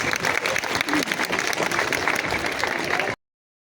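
Sustained, dense applause fills an audience hall at a school annual function, loud and steady for about three seconds before cutting off abruptly, with no talk over it.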